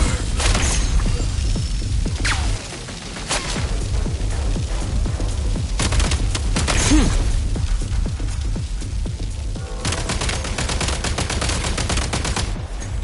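Rapid gunfire and sharp bursts from a video game firefight, with a frag grenade blast among them; dense, loud shots in irregular clusters, with several heavier broadband bangs standing out near and far, without voices.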